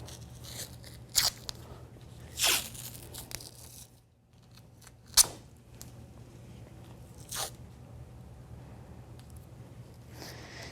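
Athletic tape being torn during a turf toe tape job, several short crisp ripping bursts spaced a second or two apart against a quiet room hum.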